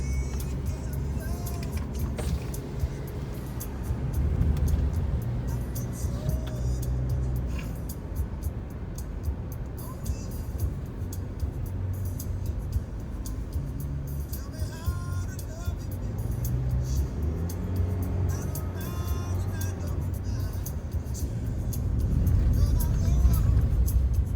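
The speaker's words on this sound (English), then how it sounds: "Typical traffic right here." Road traffic on a commute through Djibouti, heard from inside a moving vehicle: a continuous low engine and road rumble with passing cars swelling and fading, and voices talking intermittently over it.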